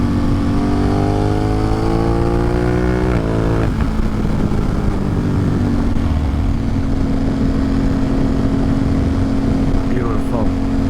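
A motorcycle rides along twisting forest roads, its engine a loud, steady close drone whose pitch climbs and shifts through gear changes, with rushing wind throughout.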